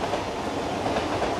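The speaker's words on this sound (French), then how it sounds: "Je savais même pas qu'il y avait des trains." A train rolls past at close range, its wheels clattering steadily over the rails in a loud continuous rumble with no voices.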